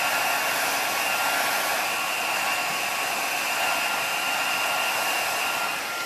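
A hair dryer blows steadily and loudly for several seconds, drying paint on a small mixed media canvas set on a heat-resistant mat, with no pauses or talk.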